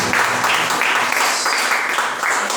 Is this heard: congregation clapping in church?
yes